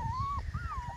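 Several puppies whine and whimper in an outdoor puppy pen on a sunny day, with a long high wavering cry, a short break, then another rising and falling whine over low shuffling noise.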